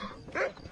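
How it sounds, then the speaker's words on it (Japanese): A dog in the Wild West video game Red Dead Redemption gives a short, close bark or yelp lasting under a second, with no talking around it. "犬がとどめよ。"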